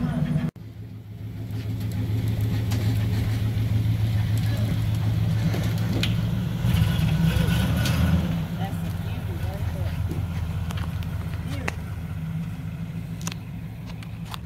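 A 1941 Cadillac Fleetwood engine idling and revving as the car is driven out of a delivery trailer, a steady low rumble that rises briefly in the middle, with light clanks and knocks around it.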